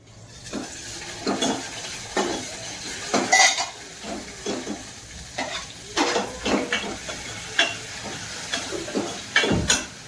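Tomato cooking in a pan, with scattered clinks and scrapes of a utensil against metal and a lid knocking over a soft background sizzle, close and moderately loud, no speech.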